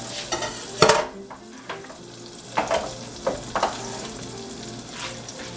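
Butter frying in a soup pot for chicken noodle soup, a soft steady sizzle broken by several sharp clinks and scrapes of a utensil against the pot.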